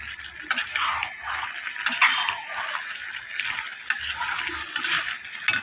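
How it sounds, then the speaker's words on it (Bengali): Potato, eggplant and flat bean pieces are stirred in a pan with a spatula, giving a steady scraping, clattering texture with occasional sharper knocks, close and continuous, with no talk. "সবজিটাকে কষিয়ে নিচ্ছি ভালো করে।"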